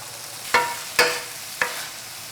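Big chunks of squash fry in a pan over medium heat, with three sharp stirring scrapes breaking over a soft, continuous sizzle.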